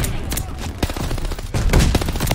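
Rapid automatic gunfire in the multiplayer shooter Call of Duty: Vanguard, dense loud bursts of shots running throughout with no pause, close and punchy.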